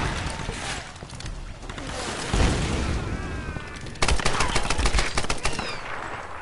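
Rapid gunfire crackles in Tomb Raider 2013, with a grenade's heavy thump midway followed by another burst of close, loud automatic shots and a dense rattle of fire.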